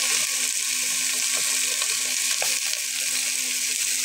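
Mixed vegetables fry in a pan for khichuri, giving a steady, dense sizzle that holds at an even, fairly loud level, with faint stirring clicks underneath.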